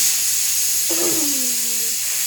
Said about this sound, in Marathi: कुकरला पटापट शिट्ट्या देऊ राहिले बाबा